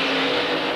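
Racing cars on the Adelaide International Raceway oval in the 1972 Tasman Series, a loud close engine roar that holds steady for a brief moment.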